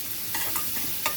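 Tomatoes saute in hot oil, a soft steady sizzle broken by a few quick scrapes of a spoon stirring the pan, close and fairly quiet with no speech.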